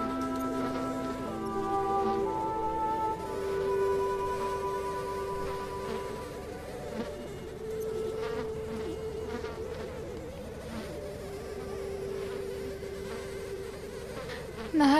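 Mosquitoes hover close by outdoors on a Yakut island. Their thin whining drone keeps going without a break, shifting slowly in pitch as the insects circle. It is faint and has no voices over it.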